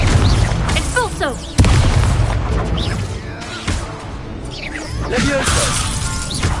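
Spell blasts in the Hogwarts Legacy video game, with repeated booming bursts and crashing impacts amid whooshes and busy combat sounds, loud and close while character voices shout over the fight.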